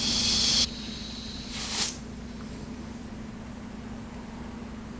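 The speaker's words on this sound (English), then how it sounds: "I'm gonna run the air compressor and hopefully kind of get this going good for us." An air compressor hisses loudly in a short burst, then a second brief spray of air follows as a tubeless mountain bike tire is inflated, with a steady low hum beneath.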